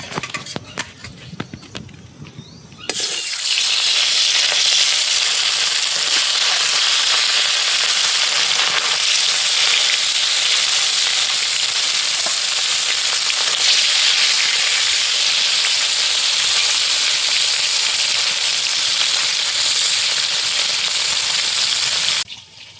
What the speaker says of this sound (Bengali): আমার তেল গরম হয়ে গেছে, এবার মাছ দিয়ে দেবো।